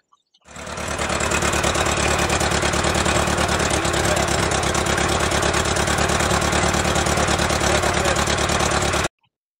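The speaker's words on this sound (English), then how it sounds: "We then saw this as our opportunity to have our first spin in the Jeep, and we drove back to the Memorial of Saint Marcel" A Jeep engine runs steadily while driving during a WWII Operation Bulbasket 80th anniversary visit, loud and close for about nine seconds with a constant low rumble and no talking, then cuts off abruptly.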